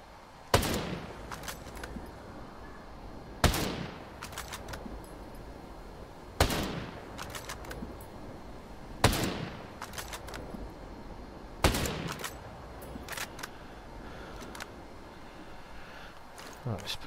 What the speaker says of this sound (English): let's take the suppressor, silencer, take it off, and we'll do 5 rounds well aimed